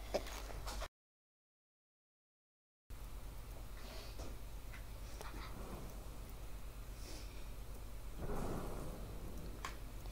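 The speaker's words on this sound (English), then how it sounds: "the car almost got hit by the lightning" A thunderstorm with lightning in the video game Wobbly Life gives steady rain and low rumbling thunder, with a louder swell near the end and a short gap of silence early on.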